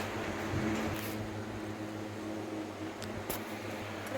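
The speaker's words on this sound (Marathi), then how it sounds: "तर कूलर चालू आहे त्याच्यामुळे भरभर आवाज येतोय" An air cooler runs indoors beside a newly cut window opening, making a steady, moderate whirring hum with a faint tonal drone throughout and a couple of brief clicks, with no talking.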